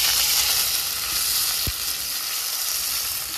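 Garlic paste dropped into hot oil after the tempering spices, giving a loud, broad, continuous sizzle that eases slightly after a brief thump, with no voices.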